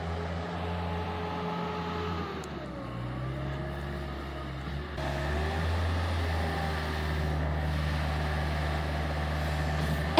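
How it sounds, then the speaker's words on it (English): An HL45 wheeled skid steer loader runs with a steady diesel engine drone and hydraulic whine. The pitch dips and shifts as the machine works, then the sound holds loud and even, with no voices. "HL45 skid steer loader, built for performance."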